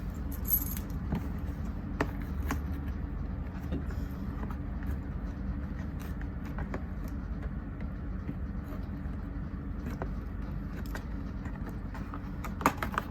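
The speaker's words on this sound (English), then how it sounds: "Get my car keys, my house key." Car keys and a house key jangle continuously at close range in small metallic bursts over a steady low background hum, with no talking.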